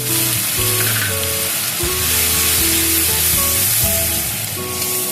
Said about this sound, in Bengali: এবার দেবো গ্রেট করে রাখা টমেটো